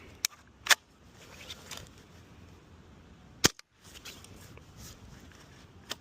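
A home-built AS VAL rifle fires during a 3D-printed magazine test, giving two sharp, suppressed-sounding cracks a few seconds apart amid faint outdoor background noise.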